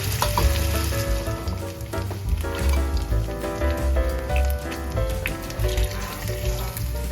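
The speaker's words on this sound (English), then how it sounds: "Fry the fish in plenty of olive oil." Fish fries in plenty of olive oil for traditional British fish and chips, making a loud, dense, continuous crackling sizzle with rapid popping spatters, close up and steady throughout, with no voices.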